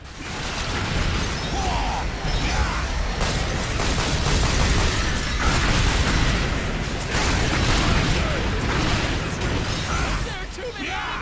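Dense, continuous gunfire and explosions from a battle in the video game Earth Defense Force 5, loud and sustained throughout with booms and bursts layered over each other, under shouted voices.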